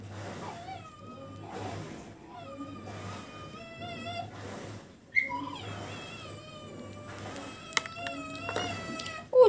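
A cat meows loudly and insistently indoors, long drawn-out yowls repeating one after another, rising into caterwauling with a few sharp clicks and knocks near the end.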